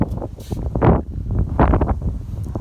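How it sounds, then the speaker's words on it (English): Wind buffeting a microphone outdoors beside a Mercedes Sprinter van, loud low rumbling gusts that swell and fade in bursts. "hopefully you can hear me with all the wind"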